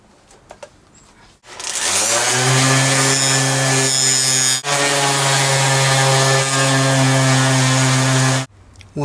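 80 grit sandpaper is run by a power sander over aluminum, giving a loud, steady grinding whir that starts abruptly, breaks off briefly once midway, and then stops.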